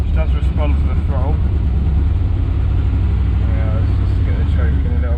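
A Morris Minor engine runs after its SU carburettor has been cleaned, idling somewhat unevenly with a loud, continuous low throb while someone talks over it.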